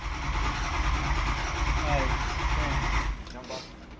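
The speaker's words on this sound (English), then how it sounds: "Here it's a little uneven cranking." A diesel engine fitted with a high-pressure oil pump cranks unevenly in a loud, continuous churning drone that cuts off abruptly about three seconds in, leaving quieter background noise.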